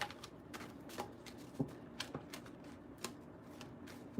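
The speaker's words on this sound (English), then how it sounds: "One more shuffle" Quiet, soft riffling and light snaps of tarot cards being shuffled, spread across a few seconds, faint and close with occasional sharper flicks.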